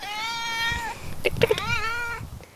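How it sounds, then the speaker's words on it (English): A tuxedo cat gives two drawn-out, loud meows close by, with a brief burst of clattering and rustling between them. "She's a tuxedo cat, and she is very loud."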